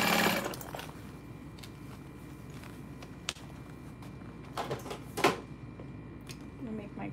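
A sewing machine sews fabric for a messenger bag on a flat surface at a stitch length of 4, a steady mechanical drone running throughout with a few sharp clicks and knocks near the end.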